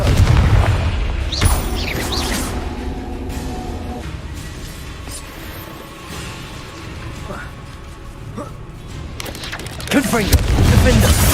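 A Confringo fire-blast spell from Hogwarts Legacy bursts with booming, crackling impacts amid ongoing combat, loud and sustained, with a heavier blast near the end.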